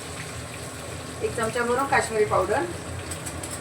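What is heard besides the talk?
kitchen exhaust hood running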